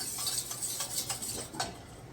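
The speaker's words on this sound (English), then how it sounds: "bring to a boil and then get it simmer, and you want to stir constantly" A spoon knocks and scrapes steadily around a pot of thickening strawberry and cornstarch mixture, giving quick, light rhythmic clicks up close and no talk.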